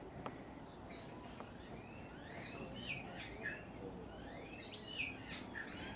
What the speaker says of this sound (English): You're a silly little bird.